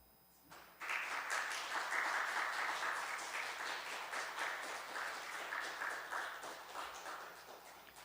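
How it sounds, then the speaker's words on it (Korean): A congregation applauds at a Korean church New Year's Eve service, the clapping bursting in suddenly after a quiet moment and holding as a dense, even roar for several seconds before easing slightly. "저도 뒤에서 같이 인사를 드릴 때 큰 박수로 격려해 주시기 바랍니다."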